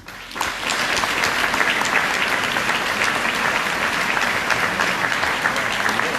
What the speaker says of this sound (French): on rende hommage à ces artistes qui nous ont quittés récemment en les applaudissant.